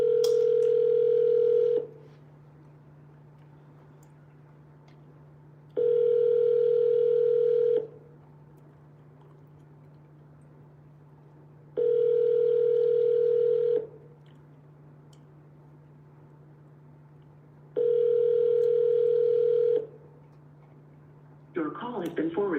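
A telephone ringback tone sounds four times in even, evenly spaced bursts over a low steady hum while a call to a property listing connects, with a brief scrape of noise at the end.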